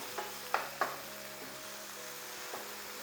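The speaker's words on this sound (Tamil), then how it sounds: "கொஞ்சமாக எண்ணெய் விட்டு இந்த பூண்டை போட்டுடலாம்" Garlic cloves frying gently in a small amount of oil, a quiet continuous sizzle with a few sharp clinks of a spoon against the pan near the start and one later, no voices.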